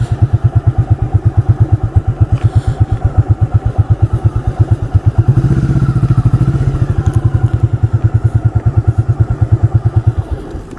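A 1985 Yamaha Virago motorcycle idles close by with a steady, loud, even rhythm of engine pulses, rising briefly to a fuller revving sound midway before settling back to its idle.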